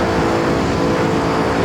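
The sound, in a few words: Bugatti Chiron engine in the video game Assetto Corsa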